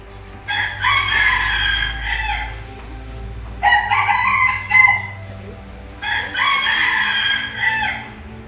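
A rooster crows three times, loud and close, as a sound effect in a staged Passion of Christ drama. Each long cock-a-doodle-doo is separated by short pauses over a low steady hum.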